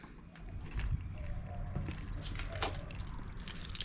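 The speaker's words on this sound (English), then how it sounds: "Got my keys." Keys jangle close by in short metallic bursts over a low background rumble, with no one speaking.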